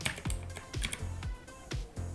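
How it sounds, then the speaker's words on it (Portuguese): Random typing on a computer keyboard while entering numbers into a spreadsheet, with close, loud, irregular keystrokes and clacks at a quick pace and no talking. "digitando aleatório no teclado"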